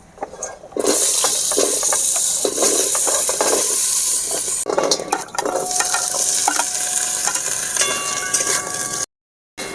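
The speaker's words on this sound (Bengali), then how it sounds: "আলু ভেজে নেব।" Potatoes fry in hot oil in a pan while shukto is being cooked, a loud, close, continuous sizzle with stirring scrapes that surge and ease, cutting off briefly near the end.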